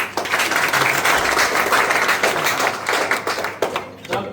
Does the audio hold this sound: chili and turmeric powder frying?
no